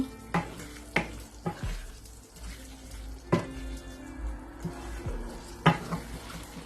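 Beef keema stirred and fried in a karahi: a steady close sizzle broken by sharp scraping knocks of a spoon against the pan at irregular intervals, with no talking.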